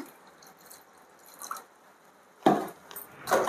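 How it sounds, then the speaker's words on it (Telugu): Water goes into a blended mango mixture in a mixer jar with two short, wet splashing bursts after a quiet lead-in, close and fairly loud. "దీనిలో కొన్ని వాటర్ వేసుకుందాం."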